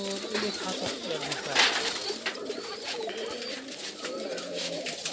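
Kuka pigeons on a local pigeon farm coo steadily and close, several birds overlapping in continuous throaty rolling calls against a busy background.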